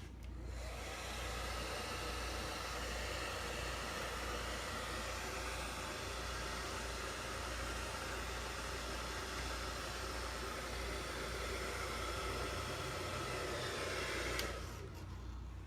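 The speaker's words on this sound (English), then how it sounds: "So now I'm just going to take the hairdryer, credit card, and get all those bubbles out." A hair dryer blows steadily with a constant airy roar for several seconds while smoothing bubbles out of a flag decal, then switches off near the end.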